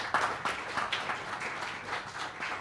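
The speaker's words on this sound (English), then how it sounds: "So please give a long applause for him." Fairly faint applause from a seated audience at a talk series event, a short run of uneven clapping heard from a distance.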